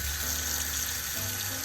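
Tap water runs steadily into a container being filled to wash omena, a continuous close splashing rush with no talking.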